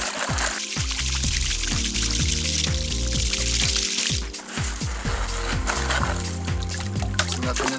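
Gravel being screened with water in a gold pan while prospecting: close sloshing, pouring and trickling water with splashes as rocks are worked out, over steady background music.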